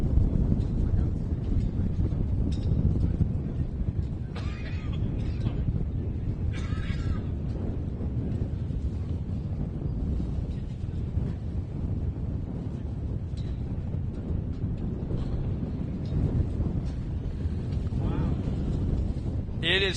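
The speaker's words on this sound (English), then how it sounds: "It is so windy that the spray from the water truck is getting up here in the tower." Strong, steady wind buffets the microphone at an off-road short-course race track, a constant low roar lasting throughout with a few faint higher sounds poking through.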